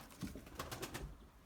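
A white pigeon coos in a short, soft series of rhythmic pulses, faint and close with no other sounds around it.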